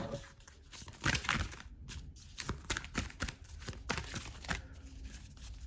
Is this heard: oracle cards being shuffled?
yes